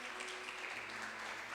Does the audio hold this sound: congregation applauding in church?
yes